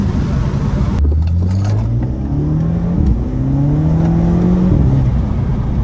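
A tuned Audi A3 engine drones and whirs as the throttle lifts, with a brief hissing turbo blow-off valve release on top of the steady motor noise.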